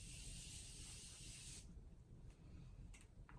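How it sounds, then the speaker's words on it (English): Morphe setting spray misted onto the face: one sustained close hiss of about a second and a half, then a few brief, fainter spritzes, with no talking. "Then I'm just going to go in with the Morphe setting spray on top of that."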